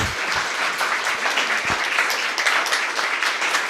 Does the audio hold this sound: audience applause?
yes